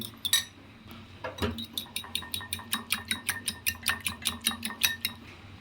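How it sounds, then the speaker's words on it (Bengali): A spoon stirs a yogurt chicken marinade with water in a bowl, producing a close, steady rhythm of about fifteen bright metallic clinks against the bowl after a few louder knocks. "তো জল দিয়ে একটু ভালোভাবে নেড়ে নিতে হবে।"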